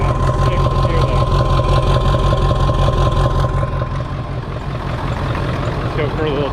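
A Ford 7.3 Powerstroke diesel OBS truck with a hood stack idles steadily and fairly loud close by, its low rumble continuous throughout, with someone talking over it.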